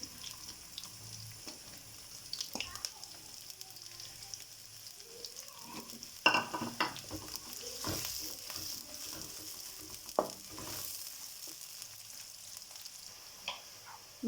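Onions sizzle and crackle steadily in a hot pan, with occasional clinks and stirring noises, close and moderately quiet.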